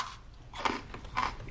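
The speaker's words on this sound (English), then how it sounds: "Let's go ahead and give it a bite." A big chunk of freeze-dried mango is bitten twice, giving two sharp, close crunchy bites with brief crackling, heard alone in a quiet room.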